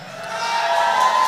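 An audience at an HKBP Denpasar church Pesta Gotilon celebration cheers and claps for the school children, a broad crowd roar swelling steadily louder over a sustained hum.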